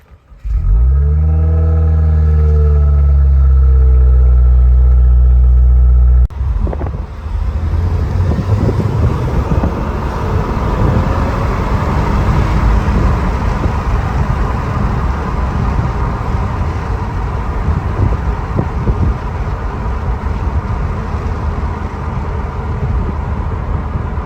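A 2017 Subaru WRX Sport Tech with a turbocharged boxer engine drives along steadily, giving a continuous loud engine and road roar. A sharper revving burst comes at the start, then a constant drone that lasts throughout.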